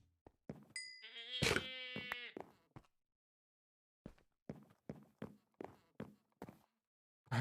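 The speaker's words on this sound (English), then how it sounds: "Screaming goats always have me worried that they're going to charge at inopportune moments." A screaming goat in Minecraft, modded with All The Mods 7, lets out one loud, drawn-out bleating scream near the start. Sparse clicks and taps follow, then a string of evenly spaced footsteps.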